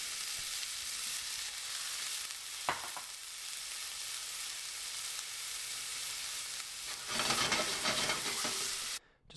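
Brussels sprouts hitting hot olive oil in a pan, a loud steady broadband sizzle running throughout, with a brief knock partway and a louder surge of frying near the end before it cuts off.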